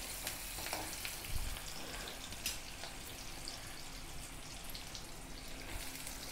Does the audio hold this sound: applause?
no